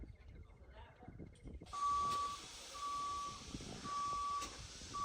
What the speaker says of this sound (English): And minus the bus starting up too.